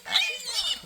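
A pig being carried off to be raised in a riverside community in Amazonas gives loud, close grunts and high squealing oinks in a short burst, with voices around it.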